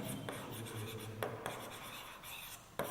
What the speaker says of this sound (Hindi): इसको हम लोग ऐसे लिख सकते हैं